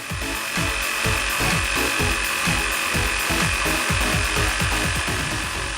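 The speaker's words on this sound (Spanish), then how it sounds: "la primera prueba que le vamos a hacer es cortar un listón de madera de aproximadamente 40 milímetros" A jigsaw cuts through a wooden slat about 40 mm thick, giving a steady, loud buzzing rasp of the blade's rapid strokes throughout, close and continuous with no speech.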